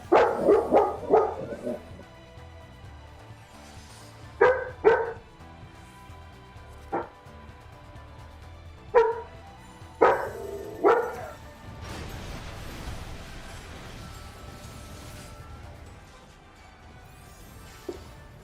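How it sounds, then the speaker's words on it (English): A pet dog barks in a home during an online game session, several sharp separate barks spread over the stretch, with quieter yips and some background noise between them. "I have a dog."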